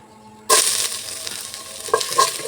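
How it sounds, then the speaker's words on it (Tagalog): Ginger and onion dropped into hot oil, a sudden loud sizzle bursting in after half a second of near silence, then settling into steady frying with a few stirring knocks. "Gisa po muna tayo sa ating luya"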